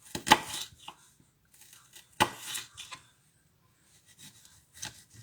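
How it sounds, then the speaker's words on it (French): Knife working a shallot on a cutting board: a few sparse, close slicing and scraping strokes with quiet gaps between them, soft overall, no talking. "Je vais y mettre une petite échalote aussi dedans. Donc, même principe que pour l'oignon."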